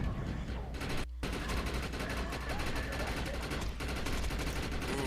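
Gunfire in the shooter video game Defiance, a dense continuous stream of rapid automatic shots with heavy low-end booms, loud and unbroken throughout.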